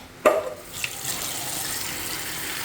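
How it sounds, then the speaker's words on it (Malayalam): Water poured from a vessel into cooked dal for sambar, a sharp splash at the start settling into a steady pouring stream, close and alone. "പരിപ്പ് വെള്ളം ഒഴിക്കട്ടെ"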